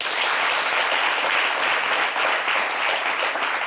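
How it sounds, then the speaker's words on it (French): A French studio audience gives dense, continuous applause for a guest, a loud, even roar of many hands clapping together with no break. "Applaudissez."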